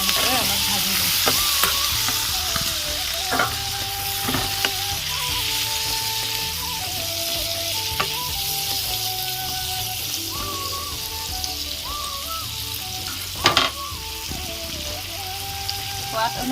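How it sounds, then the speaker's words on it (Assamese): Boiled pointed gourd and potatoes fry in a pan with turmeric, a constant oily sizzle broken by occasional clinks and scrapes of stirring, close up, with a voice speaking now and then. "এতিয়া বইল কৰা পটল আৰু আলুখিনি এনেকৈ অলপ ভাজি লৈছোঁ।"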